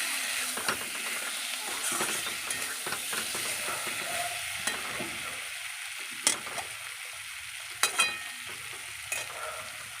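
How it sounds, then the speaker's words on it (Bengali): Potatoes and spices sizzling in a pan while being stirred, a steady soft fry with occasional sharp scrapes and clicks of the spoon, quiet and close. "মশলাটা একটু ভাজা ভাজা হবে। আলুটা দিয়ে দিয়েছি, ভালো করে কষিয়ে নিচ্ছি আলুটাকে।"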